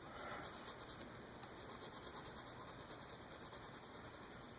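Soft, rhythmic scratching of an H graphite pencil shading on sketchbook paper, quick repeated strokes close up and fairly quiet, with no talking.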